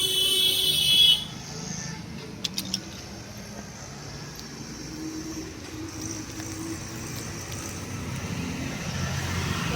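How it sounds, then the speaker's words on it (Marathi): Steady road traffic with vehicles running, a continuous broadband rumble throughout, preceded by a brief high electronic tone at the start and a few short clicks. "ही सगळी गाड्या चालू आहेत."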